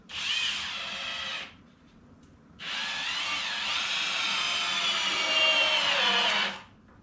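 Power drill driving a 3.25 inch screw through one wood board and into another, loud and close: a short whine, a pause, then a longer steady run that winds down at the end, with no voices.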